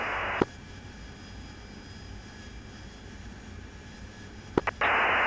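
Steady engine drone of a Harrier jet in flight heard from the cockpit, a constant low roar with high whine lines, bracketed by brief bursts of radio static and clicks.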